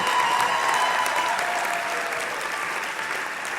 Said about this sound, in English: Ladies and gentlemen, a round of applause for graduates from the Early Childhood Education Program.